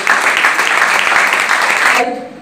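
Loud, dense applause from a studio audience fills nearly the whole stretch, steady and even, then cuts off abruptly near the end.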